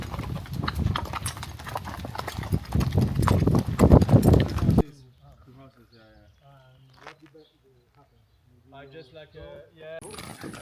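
Horse being ridden at a ranch in Argentina, hooves clip-clopping in a rapid, loud rhythm for several seconds, then quieter stretches with people talking and faint hoof sounds near the end.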